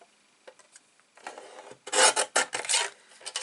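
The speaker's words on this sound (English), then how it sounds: "I'm just going to cut this in half basically" Paper for a handmade card is trimmed in a close series of scraping, rasping strokes. The first strokes are light and sparse, and the later ones are louder and quicker, with no talking.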